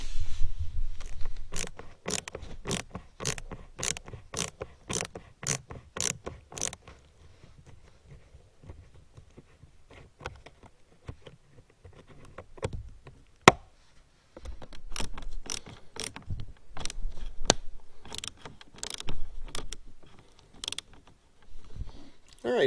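Bolts being loosened and removed from the fuse panel of a BMW i8, heard as a rapid series of sharp ratcheting clicks and creaks in bursts, fairly close and alone without talk.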